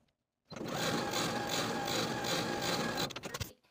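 A sewing machine stitches pintucks on a dress at a 3/8 seam allowance, a steady, fairly quiet mechanical whirring that runs for about three seconds, then slows and stutters to a stop.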